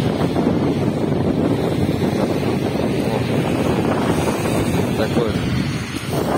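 Strong wind buffets the microphone on a street in Tambov, a loud continuous roaring rush filling the whole clip, with a brief spoken exclamation.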